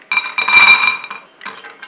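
Cashews dry-roasting in an empty pan on low heat, with bright metallic clinks and rattles as the nuts are stirred, close and loud in short bursts with a brief pause.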